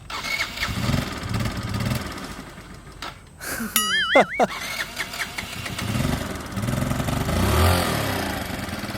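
A car starting up on the Jeju Island western coast, a brief cranking whine and engine catch mid-clip, then a steady low engine hum as it pulls away and drives along.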